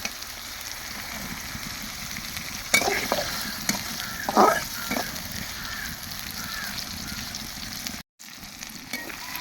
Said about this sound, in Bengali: টমেটো দেখি 2-1 মিনিট হলো ভালোভাবে ভেজে নেব পেঁয়াজটা সহ।